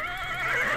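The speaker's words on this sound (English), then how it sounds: "And I do think horses actually attack you in this." A horse whinnies in Minecraft, a single short neigh with wavering pitch that sounds close and clear, with no voices over it.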